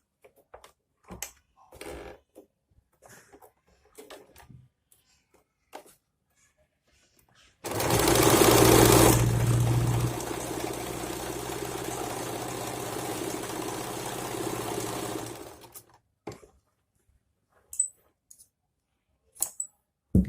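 A sewing machine stitching elastic onto a gathered skirt runs in one steady, loud, close burst of about eight seconds, with scattered handling clicks and rustles of fabric before and after.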